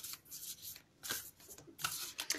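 Bursts of riffling tarot-style reading cards being shuffled, three quick flurries with short pauses between, close and fairly quiet.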